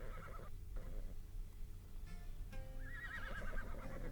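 A horse in the video game Ark neighs and whinnies, a rising harmonic call near the end, over steady game ambience and soft hoof clops.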